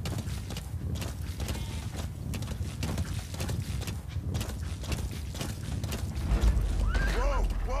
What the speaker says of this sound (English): if you're on a horse like this